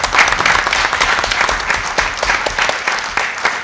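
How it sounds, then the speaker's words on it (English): Audience at a school board of education meeting gives a round of applause, dense steady clapping from many hands, loud and close, lasting throughout. "I would love to give them a quick round of applause"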